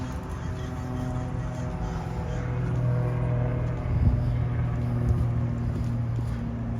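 Traffic on a main street in Ocean Park, Los Angeles, with a steady low engine rumble of cars passing close by and a couple of louder swells where vehicles go past, no talking.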